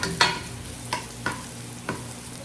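Ginger frying in hot oil for a chicken curry, with a steady soft sizzle and about four sharp scraping stirs spaced through the short stretch.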